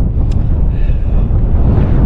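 Steady low wind roar on a hilltop along the West Highland Way in Scotland buffets the microphone throughout, loud and constant, with no voices.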